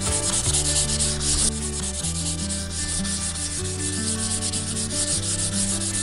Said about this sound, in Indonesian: kita cukup diamplas dengan amplas nomor kita juga ada Norton nomor 400, dan amplasnya pun tidak terlalu nekan